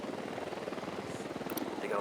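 A helicopter in Ghost Recon Wildlands makes a steady, pulsing rotor chop with even, rapid beats throughout, heard beneath game voices and ambient noise.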